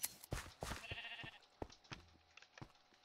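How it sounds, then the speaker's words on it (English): Sheep bleat several times in a Minecraft game, short faint cries spaced irregularly over a quiet background. "And then we have this one black sheep just kind of roaming out on its own."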